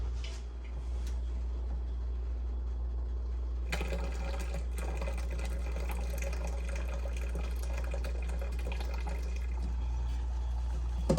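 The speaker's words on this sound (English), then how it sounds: "we're gonna rinse some more off for the next round" Tap water runs steadily over Concord grapes being rinsed for homemade juice, a continuous splashing hiss that grows fuller and louder partway through, over a constant low hum.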